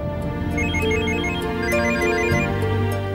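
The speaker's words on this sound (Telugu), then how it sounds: "ఇదిగో ఇంటి నుంచే ఫోన్." A telephone rings at home with a loud, bright electronic ringtone that repeats its melodic tones steadily throughout, with no voices over it.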